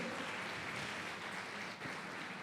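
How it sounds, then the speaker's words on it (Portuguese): A congregation claps during a family church service, a dense, distant wash of applause that holds steady and dips briefly near the end, with no speech over it. "Dê uma salva de palmas ao Senhor"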